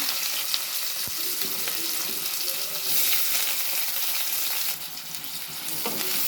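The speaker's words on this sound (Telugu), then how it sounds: "ముందుగా స్టవ్ వెలిగించుకొని కడాయి పెట్టుకొని నూనె పోసుకున్నాను" Chopped onion tempering in hot oil in a kadai on a stovetop, a steady, close sizzle and crackle throughout with occasional stirring scrapes and no talking.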